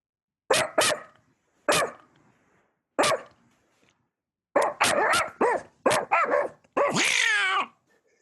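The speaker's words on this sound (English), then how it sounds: "Oh, there's a dog." A dog barking in short bursts, single sharp barks spaced apart at first, then a quicker run of yips ending in a longer whining howl, close and clear with no talk.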